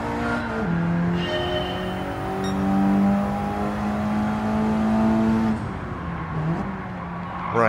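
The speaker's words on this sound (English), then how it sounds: "we're in the Evo 5, so four-wheel drive at Mount Panorama, first corner" In Gran Turismo 7, a four-wheel-drive Mitsubishi Lancer Evo 5 drives at Mount Panorama with a loud engine drone that climbs in pitch through the gears, drops on a shift, then revs again, with no talk.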